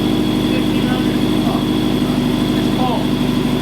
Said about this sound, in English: Yeah, right now we're idling at like 700.